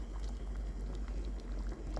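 Butter beans with smoked pork hocks boil in a pot, giving a low, steady bubbling simmer that stays faint and continuous with no talk over it.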